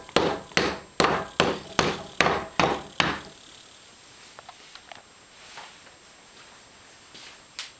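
A hammer taps the spine of a book being case bound with back glueing: seven sharp, evenly spaced close knocks over about three seconds, then quiet handling noise.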